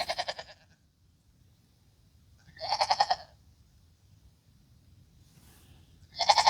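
Goats bleat three times in loud, wavering, quavering cries, near and separated by quiet pauses, with faint low background rumble and no talking.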